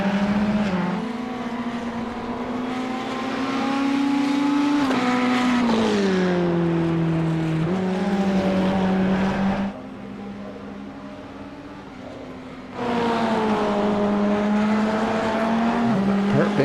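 Red Ferrari Evo 2020 race cars in an iRacing game race at Barcelona: a loud, close engine note climbs and drops through gear changes, dips quieter for a few seconds, then roars back.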